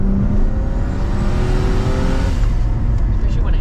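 A turbocharged RB30 engine in an R31 Skyline pulls hard in second gear, its droning tone rising steadily from inside the car, then easing off after a few seconds.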